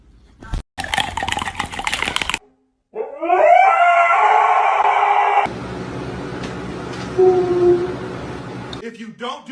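A pet dog lets out drawn-out, wavering howls in a home, loud and close, in two long stretches with short gaps, after a sharp knock at the start.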